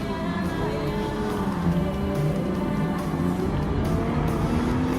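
Toyota Supra race car in Gran Turismo Sport, its engine droning steadily and loudly with rising and falling harmonic tones as it accelerates through gears, continuous close-up game engine sound with no talking.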